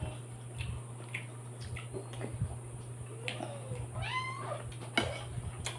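Several cats meow indoors, a few short close mews scattered over a low steady hum, with rising calls near the end and no speech.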